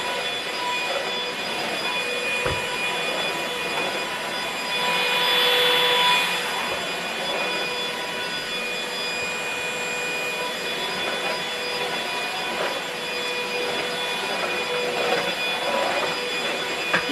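A Goodmans 2 in 1 cordless vacuum cleaner runs continuously with a loud, steady airy whine and roar, its pitch holding fairly constant as it sucks across the floor, with no voices.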